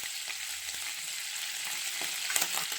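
Butter melting into ghee in a pan, a steady close sizzle with small crackling spatters popping throughout.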